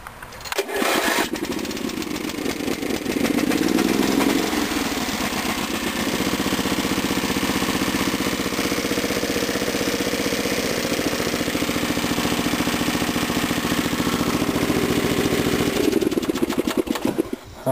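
A 1981 Briggs and Stratton 11 hp engine cranks briefly, catches and runs steadily at a loud, constant drone close by, with no talk over it until it cuts off near the end.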